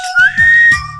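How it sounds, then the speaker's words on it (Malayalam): Whistling blown through the side of the mouth after a tooth was pulled: a close, loud, sustained reedy whistle that slides up in pitch and then holds a steady note, with low rumbling underneath. "ആ കാലമാടം പല്ല് പറിച്ച ശേഷം ഇങ്ങനെ ഒരു സൈഡിൽ കൂടി വിസിൽ വെക്കൊണ്ടിരിക്കും"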